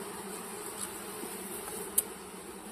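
Honeybees buzz around a hive in a faint, steady, overlapping hum, with a soft tick or two from insects brushing nearby, heard fairly close and without talk.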